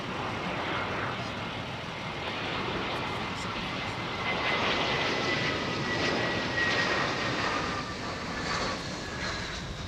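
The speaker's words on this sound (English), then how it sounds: "380 from Dubai now on finals" Emirates Airbus A380 from Dubai on final approach in blustery wind, a steady, moderately distant jet engine rumble with a thin high whine sliding through, continuous and unbroken.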